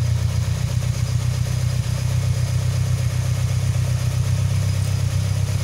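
A Toyota engine idles steadily in a workshop during a charging-system check with the battery negative disconnected, a constant low hum with light clatter, close and uninterrupted.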